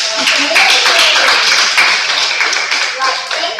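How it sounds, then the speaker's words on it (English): An audience at a Women in Tech Ghana event hosted at Microsoft Ghana claps steadily for a speaker, with dense, close applause lasting throughout. "can we have another round of applause for Anna?"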